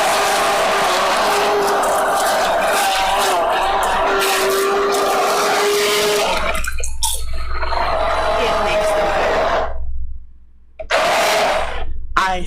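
A stick blender whirs loudly and steadily through a batch of 18 eggs, its motor pitch wavering as it works, then cuts out briefly before starting again.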